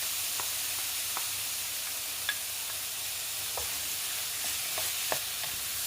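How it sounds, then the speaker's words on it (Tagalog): Ground meat sautés with garlic and onion in a pan for Filipino pinakbet, a steady sizzle and hiss broken by scattered scrapes and clicks of a stirring utensil, no voices. "Haluin lang natin hanggang sa maluto ang karne"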